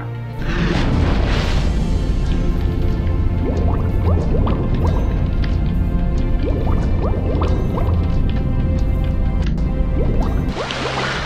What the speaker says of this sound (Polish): To brzmiało jakby ten basen się albo napełniał